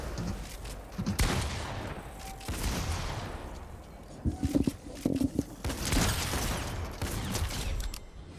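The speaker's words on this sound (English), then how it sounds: "Yeah, you guys are both shooting at me." Gunfire in the Fortnite video game, a Titled Towers match, with bursts of shots and scattered impacts over a busy game mix, moderately loud.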